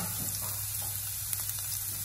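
Minced garlic dropped into hot oil in a pan, a steady close sizzle and crackle with a few small pops, no voices.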